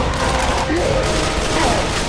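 Rapid gunfire from Left 4 Dead 2 zombie-survival gameplay, a steady dense burst of shots running the whole time over loud game noise, with a voice briefly calling out.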